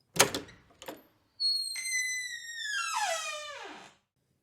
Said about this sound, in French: une porte s'ouvre.